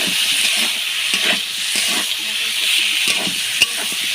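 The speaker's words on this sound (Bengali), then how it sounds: "এবারে বেটে রাখা জিরে ও ধনে বাটা দিয়ে নেড়ে চেড়ে" Ground cumin and coriander paste frying in oil and being stirred in a pan, a steady close hiss and sizzle broken by soft repeated scraping strokes of the spoon, with no talk.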